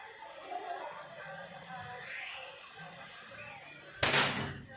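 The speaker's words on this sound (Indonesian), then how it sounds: "Kita mencoba beberapa kali tembakan ya untuk tes akurasi, yaitu nembaki lubang peluru." An air rifle fires a single sharp, loud shot at a 25 meter target near the end, preceded by quiet room ambience and faint indistinct voices.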